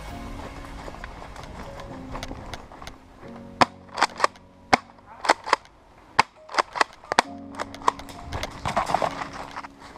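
An STF12 Fabarm airsoft replica shotgun fires a series of sharp, clacking shots, at first spaced apart and then in a quicker irregular run, loud and close against a background hum.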